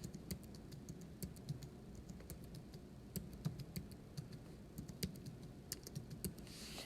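A computer keyboard is tapped while a matrix is typed into the Desmos calculator, a quiet, steady stream of light key clicks at an uneven pace over low background hum, with no voices.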